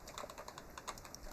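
Faint, quick tapping on a computer keyboard, a rapid run of light key clicks over a low background hiss.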